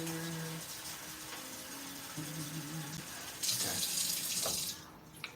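Water runs from a tap into a saucepan for a rice mix, a rushing splash that swells midway and then cuts off, with faint voices and kitchen clatter beforehand.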